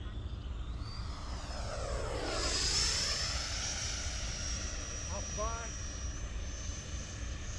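An E-flite F-16 RC model jet flies down the runway: a loud, steady high whine swells to a peak as it passes and then falls away with a Doppler sweep, above a constant rushing background.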